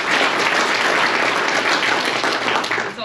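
Applause from the audience at a pickleball awards banquet: loud, dense clapping from a large crowd that holds steady throughout before easing slightly at the end.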